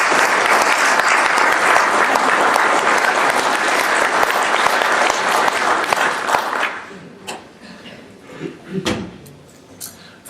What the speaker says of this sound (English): So big round of applause for Ian.